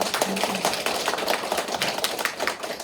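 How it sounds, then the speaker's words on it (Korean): Parents at an orientation for a California English camp clap together, a busy, continuous patter of many hands at moderate loudness with no talking over it. "인사하고 박수 한번 부탁드립니다."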